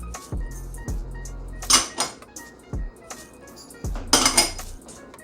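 A utensil knocks and clinks against a bowl while mayonnaise, lemon juice, minced garlic and jerk seasoning are combined into a dip, with a few separate scraping clatters and clinks amid quiet pauses.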